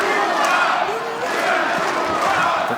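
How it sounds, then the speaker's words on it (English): A boxing or MMA crowd at a UTMA 15 fight roars and chants in a steady, dense wash of voices, loud and continuous, urging Kavaliauskas on in the closing minute of the bout. "The crowd is trying to get Kavaliauskas going"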